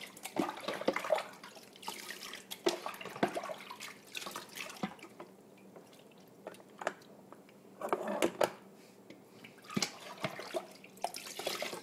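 Water from a tap running and splashing while a dog is bathed and soaked through, intermittent gushes and drips rising and falling close by with no voices.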